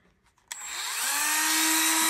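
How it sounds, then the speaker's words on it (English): A Dremel rotary tool, used to drill pilot holes in driftwood for an egg basket handle, starts with a sharp click and spins up to a steady, loud, high whine that holds to the end. "Turn that Dremel down a little bit."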